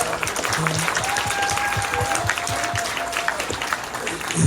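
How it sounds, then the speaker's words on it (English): Steady applause from a fan convention panel audience fills the whole stretch, dense clapping at an even level with a faint voice underneath. "he deserved it round of applause"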